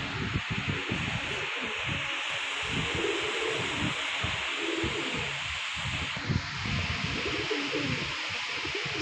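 Paired pigeons at a pigeon club coo in a steady, repeated, low throaty rhythm, close and continuous, with faint rustling behind them.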